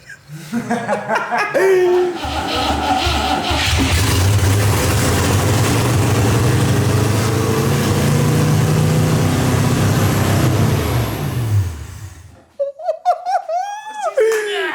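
A restored custom V8 engine in a British classic car rumbles loudly and steadily for several seconds, with voices and laughter over it before it cuts off, leaving people talking.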